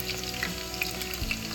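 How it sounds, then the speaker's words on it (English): Food frying in hot oil for a Bangladeshi chicken curry, a steady close sizzle with soft crackles and occasional stirring scrapes, no voices. "they have been frying for about 5 minutes now"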